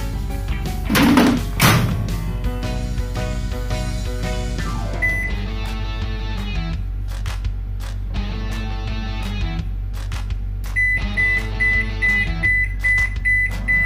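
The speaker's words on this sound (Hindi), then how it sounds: "हमने इसे ढक्कन बंद करके माइक्रोवेव में रख दिया है" A steady low hum of a running microwave oven cooking dhokla in a covered dish, preceded by a door thunk and clicks, with faint electronic beeps near the end.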